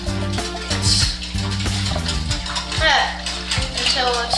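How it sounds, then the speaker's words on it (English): Whisk scraping and clinking against a bowl while mixing ingredients for pretzel dough, a steady rhythmic stirring with metallic taps, close and fairly loud. "Pour it in here and mix with a whisk"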